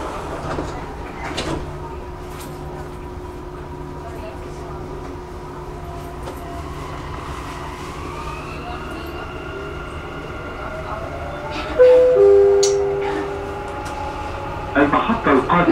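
A Dubai Metro train stands at a platform, then its doors slide shut and it pulls away, the rising motor whine building under the carriage hum, with a chime and brief announcements partway through.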